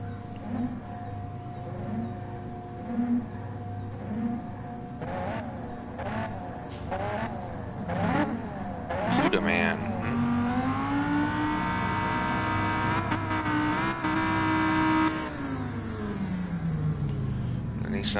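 Race cars in the GT Sport video game, a Lamborghini among them, whine and rev close by with engine pitch rising and falling through gear changes, and a long climbing acceleration toward the end, all under a steady layer of game audio.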